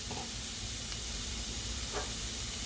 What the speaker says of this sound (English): While this is sauteing, I'm going to put a little bit of garlic in here.